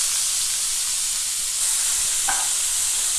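Chopped onions frying in about two tablespoons of hot oil in a frying pan, a steady, dense sizzle that holds evenly throughout with one soft clink partway through, no talking.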